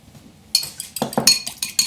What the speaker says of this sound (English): and I'm just gonna whisk it up